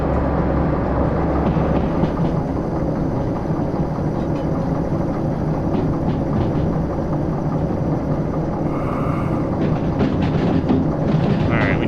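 Steady rumble of a train rolling on rails in the Derail Valley simulator, held back under braking on a downhill run, with a constant low drone and faint clatter throughout.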